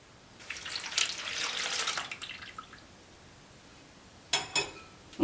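Milk poured into a bowl with yeast and sugar for sesame wheat bread roll dough, a soft splashing stream for about two seconds, then quiet, followed by a couple of short pours or drips near the end.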